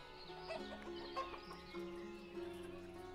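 Chickens cluck and chatter in a village of the game Ostriv, a dense overlapping flock of short calls with some other farm animal cries mixed in, steady and close with no talking.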